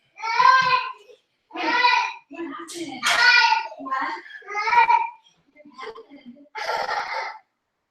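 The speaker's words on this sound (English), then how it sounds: "it sounds like we're live and the toddler is having some problems" A toddler fusses and whines at home in about seven short, separate bursts of voiced crying and complaining, close to the microphone with quiet pauses in between.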